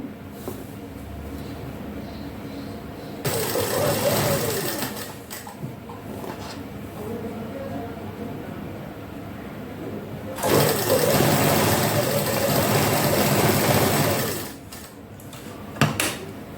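A sewing machine stitches salwar cuffs in two long motorized runs of rapid, steady whirring, separated by quieter pauses with soft handling noises and a brief clack near the end.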